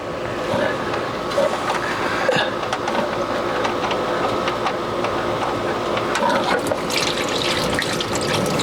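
Engine oil drains from the pan of a Ford F53 V10 chassis on a 2017 Fleetwood Bounder motorhome, a steady close trickle and splatter of liquid with a few small knocks and clatters.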